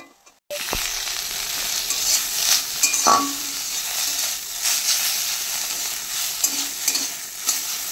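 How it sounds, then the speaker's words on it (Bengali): Khankuni (Indian pennywort) leaves frying in a pan, a loud, close, continuous sizzle and hiss that starts abruptly, with occasional clinks and scrapes of stirring throughout. "এই যে খানকুনি পাতাটা ভাজতে বসিয়ে দিয়েছি"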